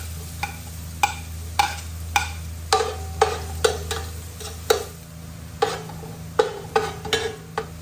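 Garlic added to toasted ginger in a pan, with a spatula clacking and scraping in quick irregular strokes over a low steady sizzle, close and alone with no talk.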